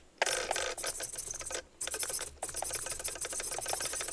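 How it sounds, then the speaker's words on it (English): A TORQ TCM-1022 micro servo whirs in quick, buzzy mechanical bursts, a rapid series of close, loud back-and-forth movements separated by short pauses. "it's on the noisier side when you compare it to some of the other top aftermarket servos out there"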